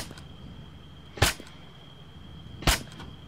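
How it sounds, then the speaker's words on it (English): Two sharp suppressed gunshots in a military shooter game on a wasteland map, spaced about a second and a half apart against a quiet background hum. "I hear suppressed gunfire."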